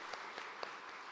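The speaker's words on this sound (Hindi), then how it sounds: "आकांक्षा के लिए भी तालियां बजाइए एक बार" An audience at a girl-child awareness campaign launch in India applauds, a soft, even patter of many hands with a few sharper claps, steady and somewhat distant.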